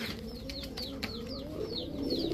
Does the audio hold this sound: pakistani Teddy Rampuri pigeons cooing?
yes